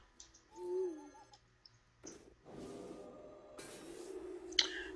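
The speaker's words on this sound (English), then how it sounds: "we do need to use this owl now" An owl card in a digital card game lets out a short hooting sound effect, a soft wavering hoot near the start followed by squishy, clicking game noises and a bright chime at the end.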